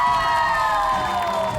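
A studio audience of supporters cheers and shouts continuously, loud and close, with no break.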